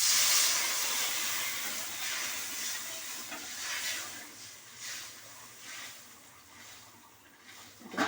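Water coming to a boil in a pan with hog plums for a sour prawn curry, heard as a continuous hissing, bubbling wash that swells and fades without any talking.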